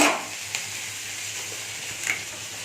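Food frying in a pan in a home kitchen, a steady close sizzle throughout with a couple of faint utensil clinks.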